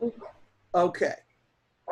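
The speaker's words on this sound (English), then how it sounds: "That's my dog. My dog heard the cat." A dog barks briefly indoors, a couple of short close barks among brief speech.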